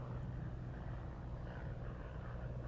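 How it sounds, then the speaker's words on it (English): A small plane takes off from an airport runway, its engine a steady low drone that holds at an even, moderately distant level for the whole stretch. "We had to look at one of the small planes making its way off the runway."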